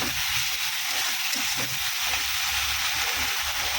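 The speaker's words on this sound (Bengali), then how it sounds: "এই মশলাটা কষানো করে মাছের মাথাটা দিয়ে দেবো" Fried fish sizzles in oil with ginger-garlic paste and ground chilli, a loud, continuous frying hiss that holds steady throughout with no voices.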